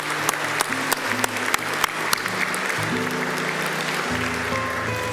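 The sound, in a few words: audience applauding graduates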